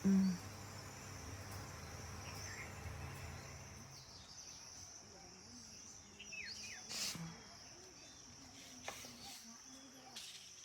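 Small birds chirping at six in the morning in the Vanni region of Sri Lanka, faint scattered high chirps and tweets over a steady insect-like hiss, distant and quiet with some low murmuring in the background.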